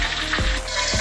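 Five-spice braising ingredients dry-roasting in a pan give a steady close-up sizzle and dry rustle, with two brief low knocks as they are stirred.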